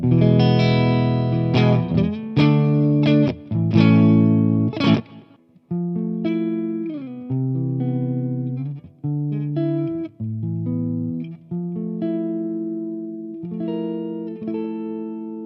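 Distorted electric guitar through an AmpliTube 5 OR50 amp simulation, playing chords and riffs with amp-like crunch, loud and close, strummed bursts then sustained notes, no voices.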